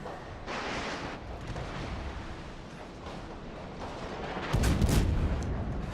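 Naval guns fire in the World of Warships video game as deep, rumbling booms under a continuous roar, with a louder, sharper blast near the end.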